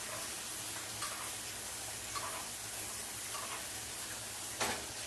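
A New York strip steak sizzles softly in a pan while being basted with a spoon, a faint continuous hiss broken by a few light clicks and taps of the spoon.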